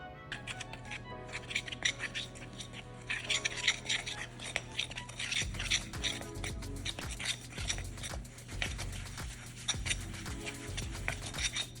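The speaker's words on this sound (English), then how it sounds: "We're gonna start off by mixing it with a spoon." A spoon stirring protein pizza dough of Greek yogurt and flour in a bowl, a rapid series of close clinks and scrapes against the dish that grows busier and thicker toward the end, with no voices.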